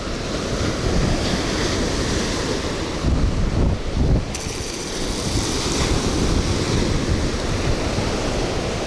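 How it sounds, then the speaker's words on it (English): Strong wind gusting across a Florida Gulf Coast beach, a loud, steady roar buffeting the microphone with surf-like rushing, swelling briefly around the middle before settling back into continuous blowing. "that wind is catching that"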